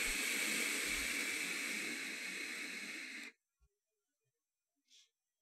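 A vape hit is drawn in and blown out as a long, steady breathy hiss that stops abruptly, followed by quiet with a couple of faint small clicks, close and without talk.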